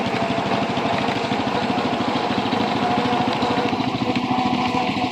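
A restored antique John Deere tractor engine idles close by with a steady, rhythmic chugging thump and a continuous mechanical rumble throughout.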